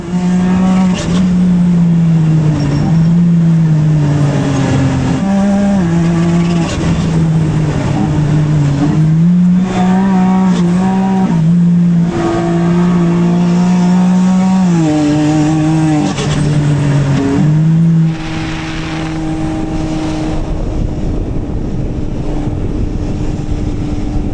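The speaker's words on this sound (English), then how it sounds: "you can really listen to the ungodly noises that this car makes with that RPM air intake" A loud, close sports car engine in Sport Plus mode revs and drops repeatedly, with a throaty RPM air intake roar and shifting pitch, then settles into a steady drone.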